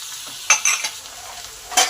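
Flat beans frying in a pan with salt, turmeric and a splash of water give off a soft, close sizzle, broken by a few quick scraping stirs.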